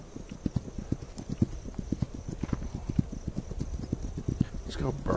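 Galloping horse hooves in a video game clatter in a fast, even clip-clop rhythm throughout, loud and close, with a faint voice murmuring in the background.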